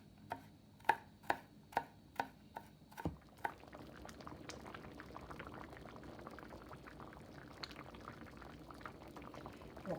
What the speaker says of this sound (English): so let me go ahead and cut up my garlic